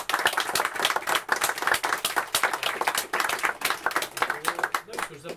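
An audience at a live reading applauds the performer's son, a burst of hand clapping lasting several seconds with steady, fairly close claps over a murmur of voices.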